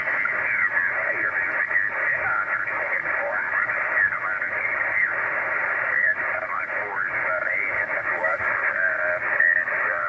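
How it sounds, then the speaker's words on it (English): An amateur radio station is received on the 20 m band through a 3-element antenna: a distant voice comes through, narrow and tinny, over a constant hiss of band noise. "it sounds like an American station"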